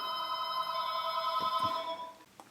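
A telephone bell rings with a steady, bright electronic trill that holds loud and continuous for about two seconds, then cuts off, with a few soft knocks near the end.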